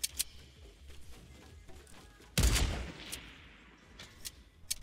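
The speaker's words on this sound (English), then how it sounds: "Who is on me right now that can throw those nades that far" A grenade goes off in a Fortnite 50v50 match, one sharp loud burst with a short rumbling tail, surrounded by faint scattered pops of distant gunfire.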